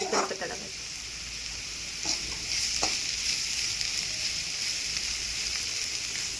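Curry leaves crackle and sizzle in hot oil for a paneer curry, a steady close frying hiss with bursts of spitting near the start, and a voice speaks briefly over it.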